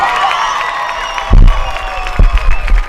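A high school football game crowd at the Howe Bulldogs at Boyd Yellowjackets game cheers for the homecoming queen, a sudden loud burst of shouting and whoops rising over steady background noise and fading into scattered cheers.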